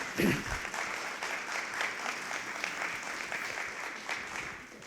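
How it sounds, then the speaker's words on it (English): An audience at an alumni association annual meeting claps steadily for about five seconds, a dense, even applause that fades slightly toward the end. "Let's give him a round of applause."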